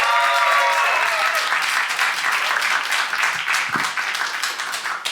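A crowd at a live comedy show in Canberra applauds a comedian arriving on stage, a steady full round of clapping with a few whoops, fading slightly toward the end.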